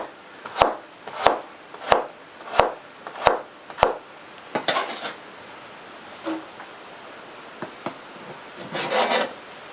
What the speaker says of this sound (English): I've cut those in quarters, lengthwise